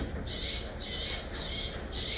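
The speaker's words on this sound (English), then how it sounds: "Nah, bunch of friggin' birds." Outside a truck, birds squawk in a repeated, evenly spaced series of harsh calls, four or so bursts over steady background rumble, fairly close and with no speech.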